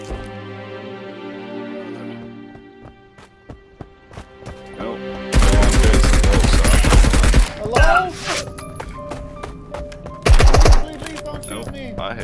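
Gunfire from the online shooter game Marauders, with a loud sustained burst of automatic fire, a few scattered shots and another short heavy burst later, set against quiet game background noise.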